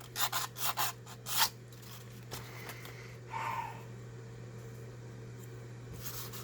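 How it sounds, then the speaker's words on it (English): Old varnish is rubbed and scraped off a wooden gun stock in a handful of quick rasping strokes, then quieter scrapes, close up over a faint steady hum, with no speech. "I'm just taking the old varnish off."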